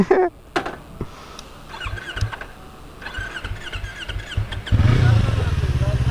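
A Yamaha R25 motorcycle engine on a ride, rising in pitch through short revving bursts before settling into a loud, steady drone in the final seconds, with clicks and wind noise.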